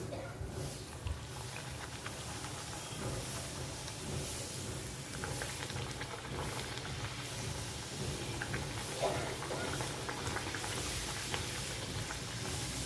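Puris frying in hot oil for chole puri, a steady, dense sizzle and bubbling hiss that runs evenly and close throughout with no break.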